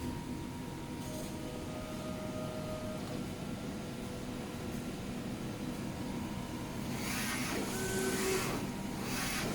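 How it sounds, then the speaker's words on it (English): A DTF printer runs while printing a print-head vertical calibration diagram, giving a steady mechanical whir and hum with a few brief whines and louder carriage swishes near the end. "Then the printer starts to print the diagram out."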